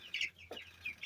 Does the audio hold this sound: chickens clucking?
yes